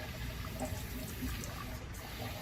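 Old rusty coolant drains from the bottom of a 1998 Lincoln Town Car during a flush, making a steady splashing, trickling flow of liquid.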